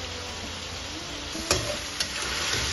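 Chicken sizzles steadily in a pan with spices and a little Kashmiri chilli powder while being cooked down for hariyali chicken, a close continuous fry broken by two sharp stirring knocks.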